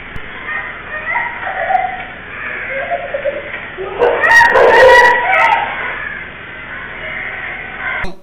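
A street dog in a yard at Erattupetta, Kottayam, rushing at two children walking to a madrasa, yelping and barking in a burst midway through, loud and close over a noisy background with voices.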